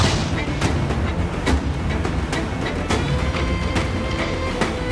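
Ship cannon fire in Assassin's Creed IV Black Flag, a steady run of booming shots about every half second, loud and close over a dense battle din, with shouting crew voices mixed in.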